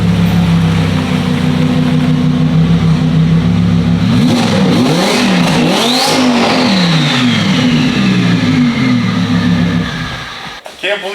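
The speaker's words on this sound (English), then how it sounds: "the turbo noises" Twin-turbo Audi R8 engine revving hard, rising and falling through several sweeping throttle blips with turbo whoosh and spool noises, loud and close, before cutting off abruptly near the end.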